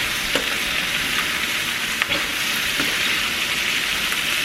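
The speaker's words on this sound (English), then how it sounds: "I'm going to give it another stir." Kielbasa sausage, peppers and onions sizzle in a frying pan while being stirred, a steady broadband hiss broken by a few faint scraping clicks, close and without talk.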